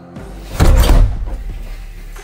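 A heavy door in a five-star hotel room in China swings open and shuts, giving a close, loud thunk with a short rattle before fading.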